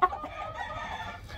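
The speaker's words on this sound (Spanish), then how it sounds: "Pollo Leiper de 6 meses que se va con su hembra Leiper" A six-month-old Leiper cockerel gives a short, close crow on a farm, with faint background noise.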